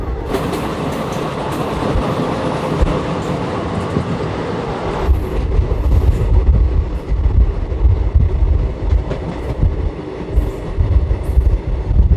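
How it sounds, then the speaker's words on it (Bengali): A train on the Kolkata to Tarapith route rumbles steadily from inside a carriage, loud and continuous, with wheel clatter, rail noise and a deeper roar taking over partway through. "আমাদের ট্রেন এসে দাঁড়িয়েছে তারাপীঠ রোড স্টেশনে"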